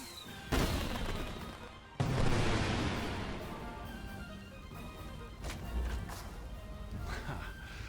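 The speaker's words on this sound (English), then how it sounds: "aim your firework at the sky, not at people" Fireworks launched skyward at a celebration, heard as two sharp loud bursts about a second and a half apart, each trailing into a long crackling, hissing decay with scattered fainter pops afterward.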